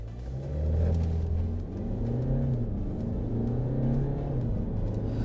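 A diesel 2018 Land Rover Discovery Sport in sport mode accelerates hard from a two-pedal launch, a steady loud engine drone rising in pitch, dropping briefly at each gear change, heard from inside the car with no talking.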